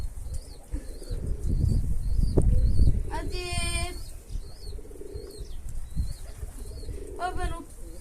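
Racing pigeons coo softly amid a rush of flapping wings, with birds chirping and low background noise.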